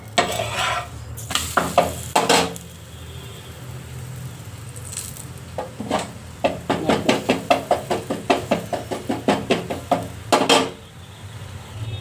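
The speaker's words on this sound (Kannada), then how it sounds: "ಇವಾಗ ನಾನು 3ನೇ ಚಪಾತಿ ಹಾಕ್ತಾಯಿದ್ದೀನಿ. ಮೇಲೆ ಸ್ವಲ್ಪ ಆಯಿಲ್ ಹಾಕೋಣ ಬನ್ನಿ." A chapati cooking on a pan with a little oil added on top: a faint sizzle sits under bursts of quick, close tapping and knocking, with a rapid run of regular taps in the second half.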